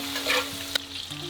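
Doubanjiang being stir-fried in oil to draw out the red oil gives a brief, close sizzle. A spatula scrapes and clinks against the pan, with a sharp tap near the middle.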